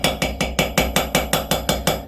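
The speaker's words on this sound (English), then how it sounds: "the ball peen of the hammer against the steel, or it could be aluminium if you're doing a motorcycle casing, it actually cuts the paper for you" A ball peen hammer taps gasket paper laid over a steel plate, cutting the paper against the metal edge; about ten sharp, evenly spaced close strikes in a steady rhythm, loud with ringing metallic overtones.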